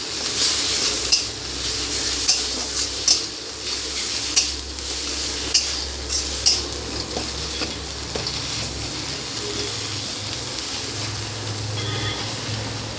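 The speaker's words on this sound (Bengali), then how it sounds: "এই জিরে গুঁড়োটাকে ভালো করে মিশিয়ে নেব।" Cumin powder being stirred into a mash of bottle gourd leaves and shrimp in a pan, with a steady soft scraping and sizzling plus sharp metal clinks of the spoon against the pan at irregular intervals.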